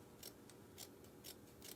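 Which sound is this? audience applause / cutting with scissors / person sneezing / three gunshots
cutting with scissors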